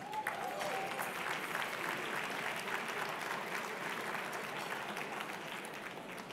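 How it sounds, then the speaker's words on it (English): Conference audience in Austin, Texas breaks into sustained, dense applause from a large crowd, steady and loud throughout before easing slightly at the end. "join me in applauding if you think it's a great day to be alive in Austin"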